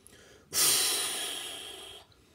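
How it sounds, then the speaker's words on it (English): One long, steady breath exhaled through pursed lips during a Pilates exercise, a hissing rush of air starting abruptly and fading over about a second and a half. "exhale through pursed lips"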